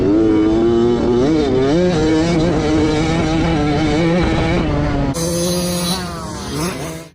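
A KTM 65 SX kids' dirt bike engine runs close and loud, a buzzy two-stroke drone that rises and dips with throttle blips before settling into a steadier idle, no speech.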